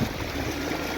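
Rainwater gushes from the ground in a rural village after rain like small waterfalls, a steady, close, broadband rush of flowing water with no voices.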